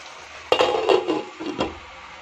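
A metal lid clanks down onto a cooking pot in a home kitchen, one sharp knock followed by a few lighter rattles as it settles, close and fairly quiet.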